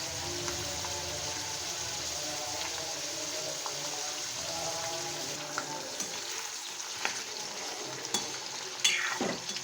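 Ginger garlic paste frying in a pan for chicken gravy gives a steady, close sizzle, with scattered stirring clicks and scrapes growing busier toward the end.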